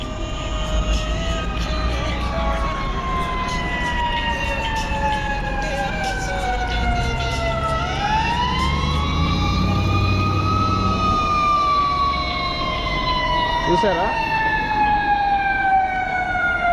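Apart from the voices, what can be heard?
fire engine siren passing on Chicago street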